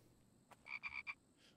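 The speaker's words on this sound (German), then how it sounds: "Da ist nochmal ein Frosch." Frog croaking in the video game The Infected: a short series of about four quick croaks near the middle, moderately faint, with no speech.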